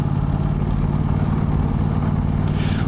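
Aprilia RS660 Factory sport motorcycle, a 2025 model, ridden with a steady, loud engine drone and dense low rumble throughout, no voices.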